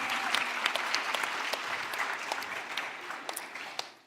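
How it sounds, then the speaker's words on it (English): Steady applause from a conference audience at Cosmoverse 2023, many hands clapping at once, fairly loud and sustained, with a few sharper claps standing out as it gradually tapers. "let's give it a round of applause for native stables in Cosmos."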